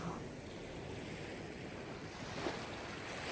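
Sea waves washing in a steady, broad rushing hiss with a slight swell partway through, distant and even, no voices.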